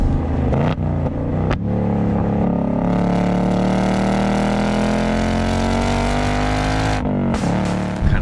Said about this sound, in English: this exhaust sounds fantastic